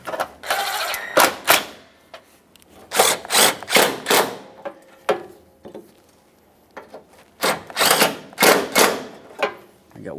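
A ratchet snugs up 10mm bolts on the washer fluid reservoir bracket of a 2007-2013 Acura MDX, giving close bursts of quick clicking spread through the clip with short pauses between.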